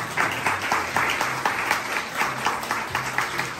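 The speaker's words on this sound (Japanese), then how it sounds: "拍手お願いします。" An audience at an anniversary celebration for a rum launch claps in steady rhythmic applause throughout. Faint voices and brief tones sit underneath.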